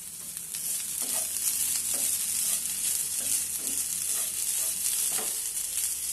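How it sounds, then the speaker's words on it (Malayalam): Grated coconut and cumin fry in leftover ghee, giving a dense, even sizzle up close with soft rhythmic stirring scrapes throughout. "ഈ തേങ്ങയൊന്ന് ഫ്രൈ ആക്കി എടുക്കണം"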